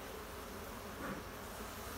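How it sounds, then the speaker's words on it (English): Honey bees in a two-brood-box hive during a mite check, a dense steady buzzing hum that fills the whole stretch, close and even without pause. "there's bound to be bees everywhere, so trying not to squish"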